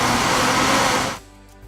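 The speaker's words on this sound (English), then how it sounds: "The average commercial blender," A loud Hamilton Beach Eclipse commercial blender motor whirs steadily, then cuts off abruptly and leaves quiet behind.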